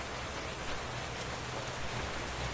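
Rain falls over a desert in a Minecraft Feed the Beast modpack, a dense, even hiss of raindrops that stays constant and fairly quiet with no other sounds.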